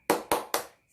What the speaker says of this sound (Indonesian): kalau gitu kita lakukan tepuk semangat seperti yang biasa kita lakukan ya